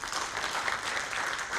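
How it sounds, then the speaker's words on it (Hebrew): An audience at a conference applauds, a dense, steady wash of clapping from many hands that stays even and loud throughout. "ומחיאות כפיים בבקשה"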